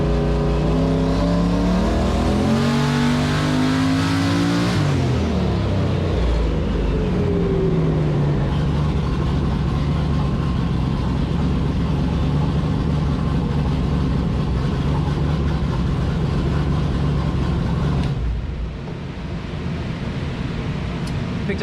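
A turbocharged LS V8 in a Foxbody Mustang pulls hard on a dyno, its revs climbing steadily before dropping and settling into a loud, sustained roar that cuts off near the end.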